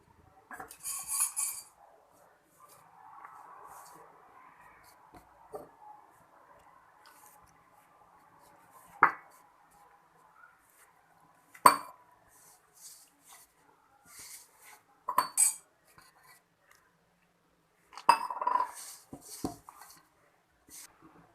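Wheat flour dough mixed with oil being kneaded by hand in a bowl for roti: quiet squishing and pressing, broken by occasional sharp clinks and knocks against the bowl, with long near-silent gaps.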